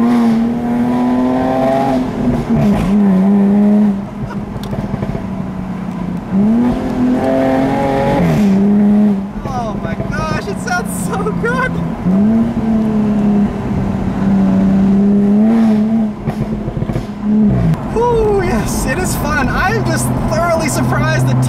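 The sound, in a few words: Jaguar F-Type V6 accelerating with tires spinning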